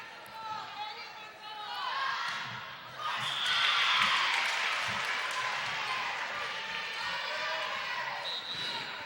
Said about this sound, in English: you can hear the crowd. They are definitely excited and hyped about how Canton is doing so well so far